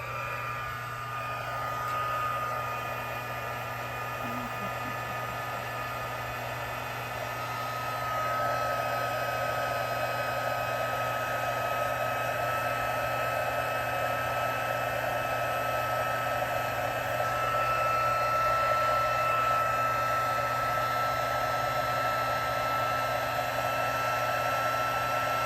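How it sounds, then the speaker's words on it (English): A Stampin' Up! heat tool set on level 2 melts white embossing powder, producing a steady, close whirring blow that runs unbroken throughout, its tone shifting slightly as the tool moves. "I've got my Stampin' Up! Heat tool. I'm going to set this on number 2 and just heat emboss this"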